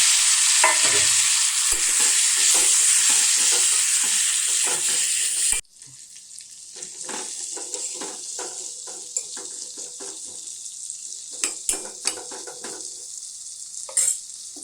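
Pieces of suran (elephant foot yam) fry with ginger-garlic paste, turmeric and red chilli in a pan, giving a loud, dense sizzle for several seconds before dropping to a quieter hiss with repeated scraping stirs.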